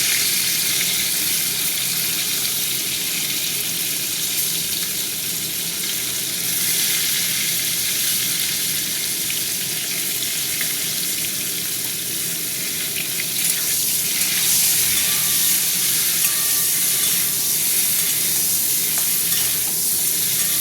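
Cauliflower frying in oil with a little turmeric in a wok, a loud continuous sizzle that holds steady and close for the whole stretch, with occasional soft stirring.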